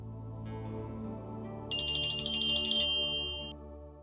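A telephone ringtone sounds in a Hindi TV drama scene, a bright electronic trill repeating for about two seconds over a steady background music bed, with no talking.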